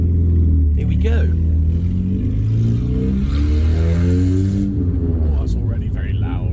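A Peugeot 106 1.1i with a straight-pipe exhaust drives toward a multi-storey car park, its engine giving a loud, rumbling drone that rises and falls as it accelerates, with someone talking over it throughout.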